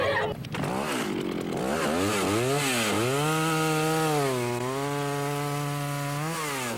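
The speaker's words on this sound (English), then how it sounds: "Chainsaw demonstrations are all basically the same, loud." A chainsaw runs loud and close at a 1985 demonstration held for a store's grand opening, its engine revving up and down in steady waves before settling into a sustained high whine.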